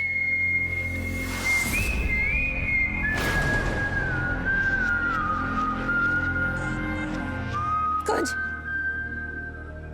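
A person whistles a slow, wavering melody with long held notes, clear and close, with a few brief noisy interruptions.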